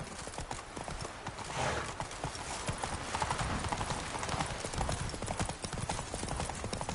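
Roach the horse from The Witcher 3 trotting, hooves clip-clopping in a brisk steady rhythm close by, with a whinny partway through and a background bed of ambient game sound.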